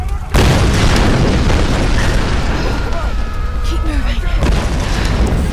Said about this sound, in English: if these explosions want to keep blowing these dudes up